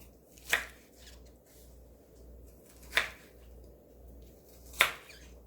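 Three sharp knife chops through a Korean melon on a cutting board, spaced a couple of seconds apart, close and crisp over a quiet room.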